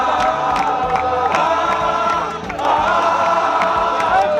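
Portuguesa football supporters chant and cheer loudly as the team arrives, a dense rhythmic crowd roar with repeated shouted phrases that dip briefly before swelling again.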